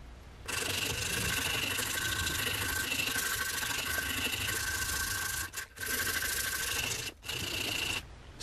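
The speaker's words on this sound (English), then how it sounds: "Sanded." Steady abrasive rasping as a roughly carved wooden topwater popper lure is sanded, continuous and close for about eight seconds with two brief pauses near the end.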